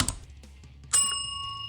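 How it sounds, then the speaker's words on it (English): A bright notification bell ding strikes once after a soft tap, its clear metallic tone ringing on and slowly fading, with no voices. "ring the notification bell"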